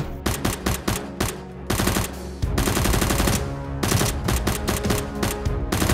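Nerf guns firing in a video game produce rapid bursts of loud, punchy shots in quick repeated volleys with brief pauses and a dense sustained stretch of fire, with no talking.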